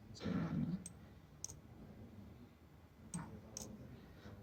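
Computer keyboard typing and mouse clicks make a few sharp, sparse taps over a quiet room background, close and soft, with no talking.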